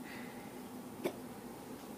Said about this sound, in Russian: Ты что икаешь?